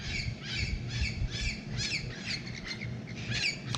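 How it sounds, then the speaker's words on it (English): Parrots flying over at sundown give a series of harsh, repeated squawks, about one every half second, fairly faint and somewhat distant over low background rumble. "When you hear the parrots,"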